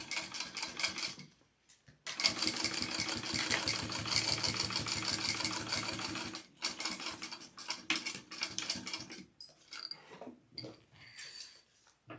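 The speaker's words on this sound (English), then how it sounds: "I'm going to go ahead and top stitch this down" A sewing machine top-stitches a mini backpack in close, loud rapid mechanical runs, pausing briefly between bursts and ending in shorter stop-start stitching.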